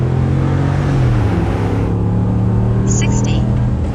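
A 2019 RAM pickup truck launched hard from a stall, its engine roaring loud and steady with a deep rising drone as it pulls away, heard from close inside the cab.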